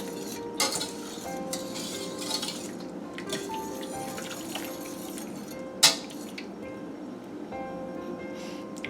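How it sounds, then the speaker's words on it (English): A whisk works through étouffée in a pot to blend in flour, giving soft scraping and sparse metallic clinks against the pot, with one sharper clink standing out, close and alone. "Just going to whisk it a little bit here."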